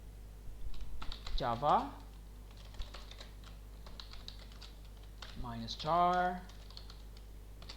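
Command being typed on a computer keyboard to launch a Java jar file, a run of light close key clicks between stretches of speech from a person talking.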